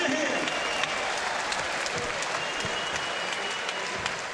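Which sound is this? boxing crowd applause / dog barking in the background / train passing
boxing crowd applause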